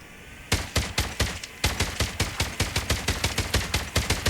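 An Oden rifle fires in Call of Duty Mobile, first a short burst and then a long, steady string of evenly spaced, loud, punchy shots after a brief pause, with no talking.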